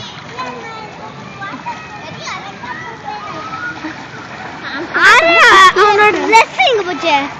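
Water splashes and sloshes nearby, growing louder and busier toward the end, with a voice chattering over the movement.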